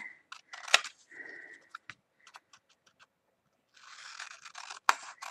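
A paper card panel is cut along straight lines with scissors, giving short crisp snips and slides in scattered bursts, with quiet gaps between them.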